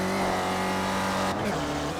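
Race cars roar along the NASCAR oval section of Charlotte Motor Speedway's Roval, a steady loud engine drone with layered harmonics that dips briefly as one backs off near the start-finish line.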